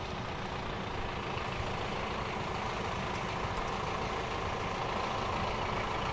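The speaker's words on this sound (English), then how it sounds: "Harry's driving the truck." A large truck idles with a steady, unbroken rumbling drone close by, holding the same level from start to finish with no talk over it.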